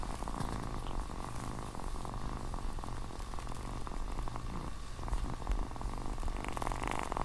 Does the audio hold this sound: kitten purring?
yes